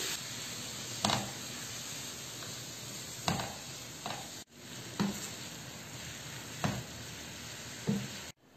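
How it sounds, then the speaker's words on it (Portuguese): Carrot and cabbage sauté in olive oil in a pan with a constant loud sizzle, broken by about six sharp scraping stirs spaced a second or two apart. "agora a gente vai deixar murchar muito bem a cenoura e o repolho"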